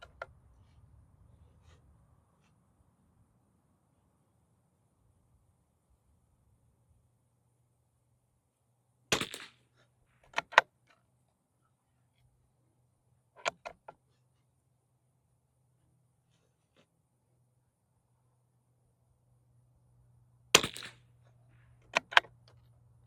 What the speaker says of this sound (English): we're gonna shoot our second 5-shot group and see if we can do that same thing once again